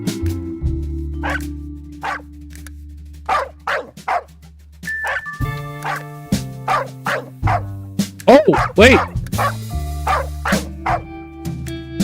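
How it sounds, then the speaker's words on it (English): Dog barks from the Mewgenics video game play as short repeated hints over steady game music, about a dozen clipped barks in an uneven rhythm while someone talks briefly. "The barks were the same on every single hint."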